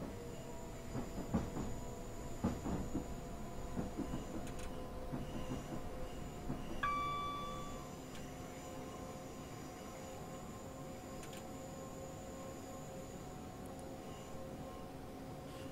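A Class 377 Southern electric train on the South London network in the Train Simulator 2015 game: a steady rolling rumble with a sustained motor whine and faint clatter, louder early on, then settling into an even hum.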